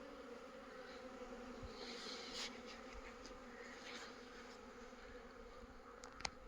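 Honeybees buzz softly and steadily around beehives outdoors, a faint continuous drone with a few brief clicks and no talk.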